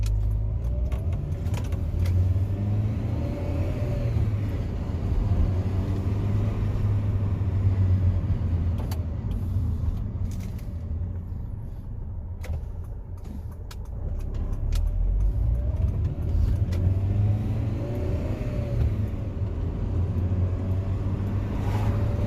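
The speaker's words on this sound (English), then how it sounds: "let's go for a drive" A Honda car drives along with a steady low engine and road rumble, loud and continuous, easing briefly midway before picking up again.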